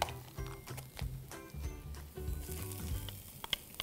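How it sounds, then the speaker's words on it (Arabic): Onions and peppers sautéing in a little oil for a moussaka with kofta, giving a soft, steady sizzle with light crackles and occasional utensil taps, fairly quiet and close. "قلنا هنشوح معانا اللي هو البصل في شوية زيت"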